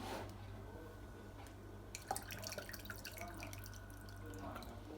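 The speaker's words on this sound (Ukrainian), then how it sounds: "будемо виливати в кружечку і міряти" Water is poured from a jar into a mug while plums are being preserved, giving a soft, steady trickle with a few splashes and drips. It sounds close and quiet, with no voices.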